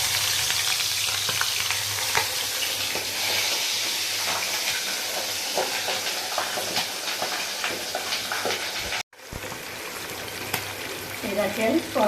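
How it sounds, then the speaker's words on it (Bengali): Pabda fish frying in a wok with mustard oil, giving a loud, steady sizzle and crackle with bright spattering throughout, which breaks off briefly near the end and then resumes. "এই দেখেন কড়াইতে আমার মাছগুলা ভাজা হয়ে গেছে।"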